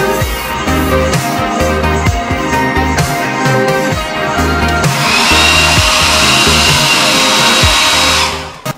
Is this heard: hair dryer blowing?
yes